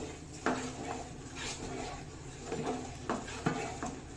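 Mysore pak mixture being stirred in a pan: faint, rhythmic scrapes and light metallic clinks of the utensil against the pan, repeating roughly once per second with no talking.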